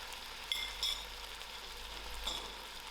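Cauliflower and ginger fry quietly in a pan, a faint steady sizzle broken by a few short clinks and stirs, with no talking.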